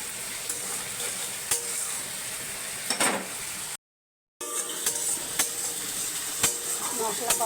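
Spice paste for a hilsa fish curry with taro stems fries in a pan with a constant sizzle, punctuated by sharp scraping stirs and one brief silent break midway.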